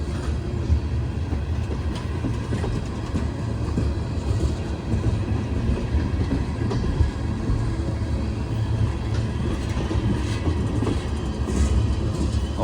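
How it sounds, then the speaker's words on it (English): A Norfolk Southern freight train of ethanol tank cars rolls past on wet rails in the rain, giving a steady, continuous rumble with rhythmic wheel clatter throughout. "All kinds of tank cars on this one."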